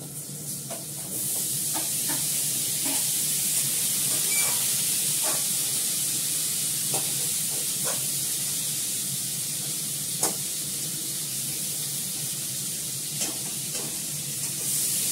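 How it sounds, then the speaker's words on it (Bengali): Potatoes fry in hot oil in a pan, giving a steady, close sizzle and hiss that runs throughout, with occasional faint clicks of stirring. "আলুটাকে ভাজি"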